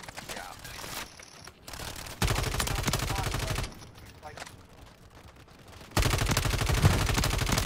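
Call of Duty gunfire crackles in loud, dense bursts of automatic shots, swelling and easing across the stretch with brief quieter gaps between volleys.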